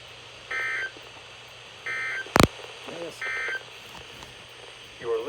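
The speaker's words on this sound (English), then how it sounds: "This includes the weekly test of the NOAA weather radio warning alarm and the emergency alert system" NOAA weather radio weekly test alarm tones from station KIH-24 in Tallahassee, Florida: three short, identical, evenly spaced beeps, with a sharp click between the second and third.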